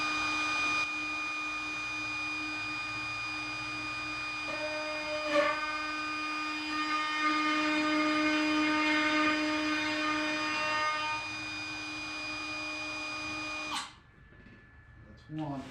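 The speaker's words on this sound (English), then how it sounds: "I had to put some pieces of wood on either side to support the plunge router" A plunge router cuts wood braced by supporting pieces for a bird feeder build, giving a steady high motor whine that rises in pitch and load midway, then stops abruptly near the end while a person speaks quietly.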